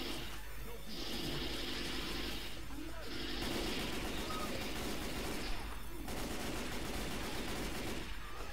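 Gunfire in the zombie shooter Left 4 Dead 2, bursts of rapid shots running under continuous game noise for several seconds, with brief pauses between volleys and voices faintly present.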